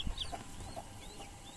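Farm chickens cluck in a few short, scattered calls over a faint outdoor background, a hen's note or two standing out near the start and middle.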